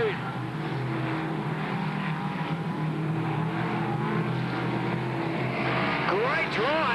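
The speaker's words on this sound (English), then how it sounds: "great drive indeed by Tim Morse to drive around car number 53, Paul Booker" Modified race cars racing on a track, a continuous engine drone with a rising rev sweep near the end, heard under a commentator talking throughout.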